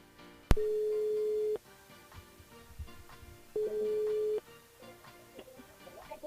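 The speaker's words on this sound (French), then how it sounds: "Elle appelle Vanessa du côté de la petite île" Phone ringback tones sound during a radio show's call to a listener: two long, steady electronic beeps about a second each, separated by a pause, clear and loud over faint background music.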